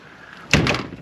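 A farm milk room door shuts with a single solid thud after a moment of quiet room tone, then a short rattling decay.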